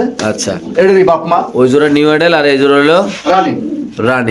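Pigeons coo at a pigeon farm, their low, soft calls mixed in beneath people speaking close by for most of the clip.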